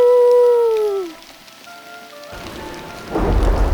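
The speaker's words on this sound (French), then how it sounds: "L'orage éclate, la pluie tombe" A thunderstorm breaks: a musical tone fades out, then heavy rain hisses in and a loud, deep rumble of thunder swells at the end.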